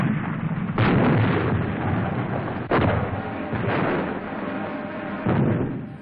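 Artillery and mortar fire at an Australian battalion position in the Korean War: three heavy booming blasts land a couple of seconds apart, each with a long rumbling tail that fills the gaps between them.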